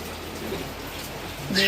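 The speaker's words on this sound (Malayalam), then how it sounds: "പുറത്ത് നല്ല മഴ ഉണ്ടോ നല്ല സൂപ്പർ മഴ പെയ്യാണ്" Heavy rain falls outside as a dense, steady hiss at moderate level, and a voice begins at the very end.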